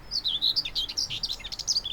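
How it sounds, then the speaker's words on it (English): A common whitethroat sings on the Gower coast, a quick scratchy run of high chirps and twittering notes delivered close and clear over faint background hiss. "a common white-throat, another bird that in the middle of the countryside you don't normally get close to"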